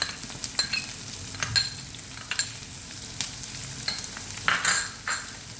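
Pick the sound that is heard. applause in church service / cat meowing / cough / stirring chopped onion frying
stirring chopped onion frying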